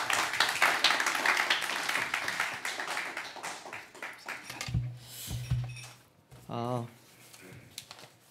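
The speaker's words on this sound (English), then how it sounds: "one more big round of applause as our missionary Lee Gi-ho comes out." Loud, dense audience applause in a church missions gathering welcomes missionary Lee Gi-ho, filling the first several seconds before fading into scattered claps and low voices.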